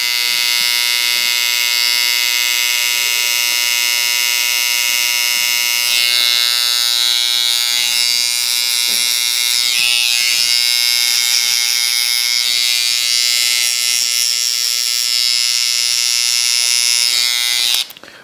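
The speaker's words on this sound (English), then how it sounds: "When going around, when making a curve with your trimmer, in this area, I'm going to use about 1/4 to 1/3 of my trimmer, not the whole blade." An electric hair trimmer cuts a drop fade around the ear. It gives a loud, close, constant buzzing hum for about eighteen seconds, with slight shifts in tone as the blade moves through hair, then it cuts off at the end.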